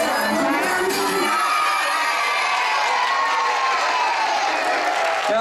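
A crowd at a Festa Junina school party cheers, shouts and applauds loudly after a nursery-class children's dance, with high children's voices mixed into a sustained roar.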